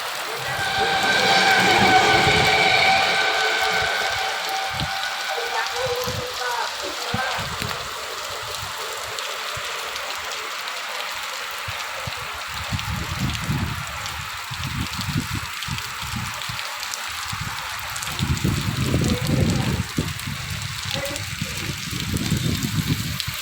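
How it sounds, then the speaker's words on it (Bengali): Heavy rain pours outside a Hind Motor area while people shelter beside parked bikes, a steady broadband wash with louder gusts of water near the start and end. "আর তার মধ্যে দেখো ভীষণ জোরে বৃষ্টি নেমে গেছে"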